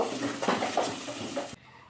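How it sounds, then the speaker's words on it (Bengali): A spoon stirs and scrapes a banana stem (thor) filling with ghee in a pan, giving a close, busy shuffle with light clinks for about a second and a half before it stops abruptly. "দিয়ে আরও ভালো করে একবার নেড়ে নেব"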